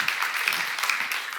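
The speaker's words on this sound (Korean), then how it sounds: "박수로 하나 주세요." A church congregation claps together in a brief burst of applause, a bright dense patter of many hands at moderate distance, steady throughout without voices.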